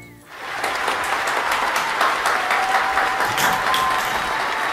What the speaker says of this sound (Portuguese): Já havia falado para não aplaudir porque ela fica agitada com os aplausos.